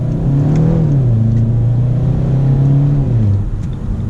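A 2018 Volkswagen Golf GTI engine roars loudly up close, its pitch dropping in steps as the DSG dual-clutch gearbox shifts down, with revs blipping between gears.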